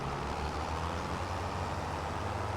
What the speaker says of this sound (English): I'm just going to drive over here